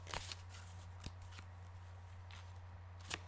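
A deck of oracle cards is shuffled close by, giving a few soft, brief riffling snaps against a quiet background with a steady low hum.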